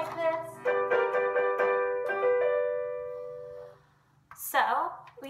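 An acoustic guitar chord, strummed with fingers not yet placed correctly, rings for a few seconds in a folk chord lesson. Notes are picked across it, then a voice speaks.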